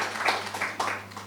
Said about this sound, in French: nous allons applaudir le parrain encore une nouvelle fois